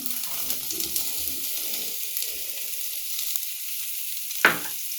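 Finely chopped onion and corn sizzle in a pan while being stirred, a quiet crackling fry with scraping stir sounds and a sharp clink of a utensil near the end.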